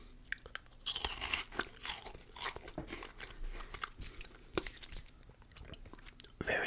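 Crunchy sugar-coated South Korean puffed snack being bitten and chewed up close, a run of sharp irregular crunches and softer mouth sounds, with no talking.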